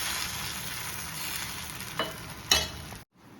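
Dosa batter hits a hot pan and sizzles steadily, a broad hiss that swells with a couple of sharp spits near the end before cutting off abruptly.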